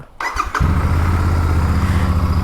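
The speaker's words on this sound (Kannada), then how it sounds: "ಗಾಡಿ ಚಾಲು ಮಾಡಿದೆ." A Royal Enfield Super Meteor 650 motorcycle starts up close by: a short whirring crank, then the engine catches and settles into a loud, steady, throbbing idle.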